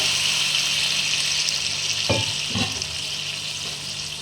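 Two bowls of water go into a hot pan of dalia (cracked wheat), giving a steady, loud rushing hiss with a couple of soft knocks partway through.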